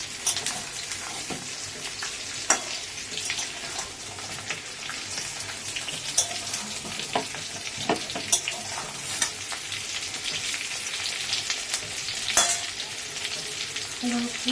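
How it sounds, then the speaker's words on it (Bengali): Potatoes sautéed with softened onions in a pan for a meat curry, steady close frying hiss with repeated spatula scrapes and taps throughout, moderately loud, no voices. "এবার আলুগুলো দিয়ে দিল দিয়ে এবার আলুটা ওর সাথে কষিয়ে নেব"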